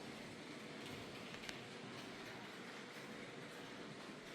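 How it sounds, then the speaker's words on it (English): Toy model train running on a track around a home Christmas village display, a continuous low rumbling whir with faint clicking, steady and even throughout with no voices. "my Christmas village and train track going around the entire perimeter of the house"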